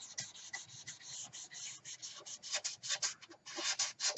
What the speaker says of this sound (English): Here it has some overspray, so I'm going to sand that too.